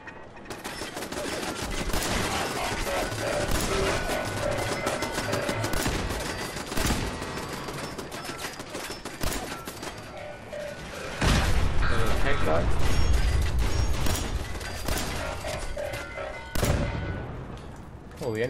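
Gunfire rattles through a robot fight in Fallout 4's Automatron, dense bursts of shots and metallic mechanical clatter filling the scene, loudest in a heavy stretch near the middle, with a voice talking over parts of it.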